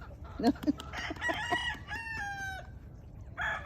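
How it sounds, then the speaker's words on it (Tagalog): Several chickens clucking close by on a farm, with a rooster crowing in a long, drawn-out call partway through and more clucks at the end. "Dami manok."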